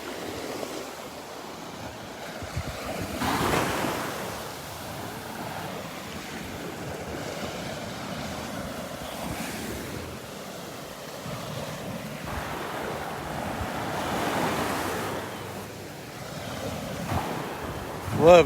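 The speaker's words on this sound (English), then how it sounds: "Love those sounds. Love the sounds of the waves." Gulf of Mexico waves roll into shallow water and break on the shore at Delnor-Wiggins beach in a continuous rushing surf, swelling every few seconds, with wind noise brushing the microphone.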